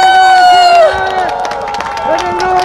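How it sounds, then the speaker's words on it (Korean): A large outdoor rally crowd gathered for marine corps veterans cheers and whoops while a voice carries over the din, with some clapping mixed into the loud, steady noise. "자, 큰 박수 부탁드리겠습니다."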